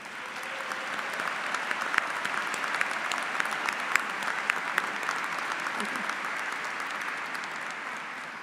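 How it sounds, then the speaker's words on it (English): Sustained round of applause from a large audience at a high school graduation ceremony, steady dense clapping throughout with no talk, filling the hall evenly from start to end. "so we can offer you a round of applause"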